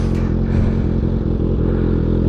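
A Kawasaki Ninja ZX6R 636 with an SC Projects exhaust fires up and settles into a loud, steady idle, its deep rumble close and continuous throughout.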